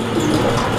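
Pigeons coo at a pigeon market, a short, close, steady murmur of low calls with no talking.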